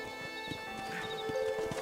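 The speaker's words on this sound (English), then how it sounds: "I don't really understand why the NPCs have to go so slow on their horses." Horses walk at a slow pace in the Red Dead Redemption video game, hooves clip-clopping in an even rhythm at moderate volume, with a brief whinny and soft ambient game sound behind.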